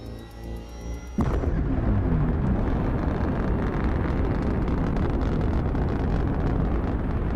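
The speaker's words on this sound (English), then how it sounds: "The engine is starting up." An engine roars to life after a short quieter stretch, jumping abruptly to a loud, steady, broadband rumble that holds without letup to the end.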